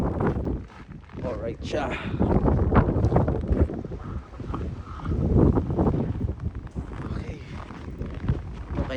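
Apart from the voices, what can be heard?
very strong wind during a snow blizzard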